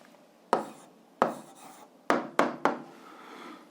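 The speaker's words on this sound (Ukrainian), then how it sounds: "записуємо відповідь, пишемо відповідь" Pen or chalk strokes write out an answer to a physics problem, heard as a handful of short, close scratching bursts separated by brief pauses over a quiet background.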